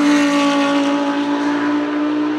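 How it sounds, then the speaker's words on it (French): A Toyota Supra GT4 race car runs at Le Castellet, its engine holding a loud, close, steady tone with strong harmonic layers that drift slightly lower as the car moves. "Je roule avec la Toyota Supra GT4 du team CMR."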